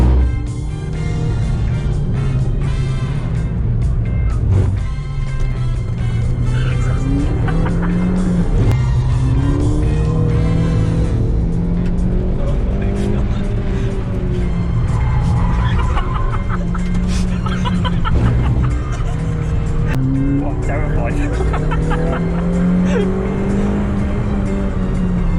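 A Suzuki Swift race car drives hard around the Curborough sprint course, its engine droning steadily and loudly throughout with rising and falling revs, while people talk and laugh over it.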